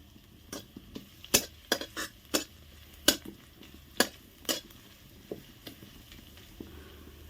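Garlic frying in a pan while being stirred, with sharp spatula clinks and scrapes in an irregular rhythm over a quiet, steady sizzle.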